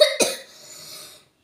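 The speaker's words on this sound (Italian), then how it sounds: "Sembra la tosse." A single sharp cough bursts out close by, followed by a fainter trailing breath or soft throat sound that fades into silence, heard in a quiet indoor room during a Christmas present opening.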